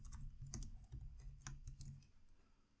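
Keyboard keys being clicked and typed during IoT coding work on an I2C OLED screen project, a quiet run of sharp, irregular clicks close by with no voices.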